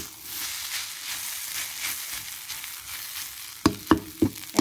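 Fried rice with fresh naem sausage and egg sizzles steadily in a pan, a dense close hiss carrying on throughout, with several sharp scraping knocks of a spatula against the pan near the end.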